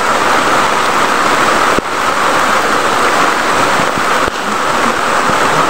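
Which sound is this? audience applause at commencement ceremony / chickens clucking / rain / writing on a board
rain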